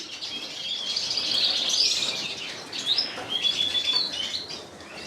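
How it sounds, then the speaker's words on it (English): Scots fancy and Belgian fancy canaries chirp and trill in bright, busy bursts, with quick high notes overlapping throughout, fairly close and steady. "I keep and breed Scots fancy canaries and Belgian fancy canaries"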